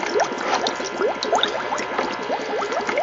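An air-stone bubbler aerates water in a canning jar, giving a continuous close bubbling and gurgling with many small pops, steady throughout with no talking.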